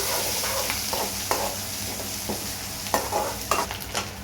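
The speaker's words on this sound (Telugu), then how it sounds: "ఉల్లిగడ్డలు వేసుకోవాలి ఫ్రెండ్స్ ఉల్లిగడ్డలు ఇప్పుడైతే కలపాలి" A spatula stirs and scrapes chopped onions in a hot frying pan, with a steady sizzle under repeated scraping strokes, close and fairly loud, with no talking.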